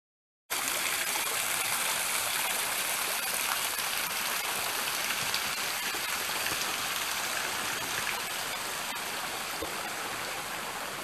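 Water flowing steadily through the Monte Palace Gardens in Funchal, Madeira, a continuous even rush close by with no voices.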